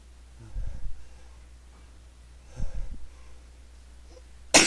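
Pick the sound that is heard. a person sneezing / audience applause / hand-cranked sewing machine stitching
a person sneezing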